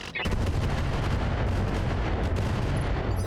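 A mech weapon firing in BattleTech with RogueTech, a sharp opening blast that gives way to a sustained, heavy rattling barrage of repeated shots, loud and close, with no talk.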